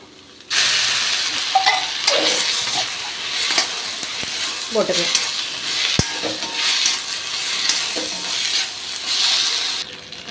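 Sliced raw banana sautéing in a hot pan, a steady close sizzle and hiss with intermittent scraping and stirring of the spatula, a brief spoken remark and a couple of sharp clinks against the pan.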